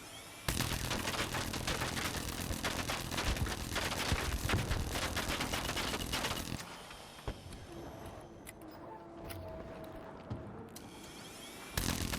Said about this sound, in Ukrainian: Я стріляю, стріляю по ньому.